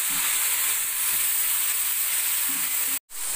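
Ground spice paste frying in hot oil for a chicken curry, a loud, continuous close sizzle and hiss, with faint stirring underneath and a brief dropout near the end, no voices.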